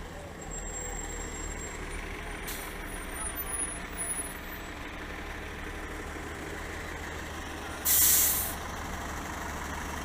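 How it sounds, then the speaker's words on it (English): A Walt Disney World transit bus rumbles up with a heavy, steady engine drone, then lets out a loud, sharp hiss of its air brakes near the end. "And here comes our bus now."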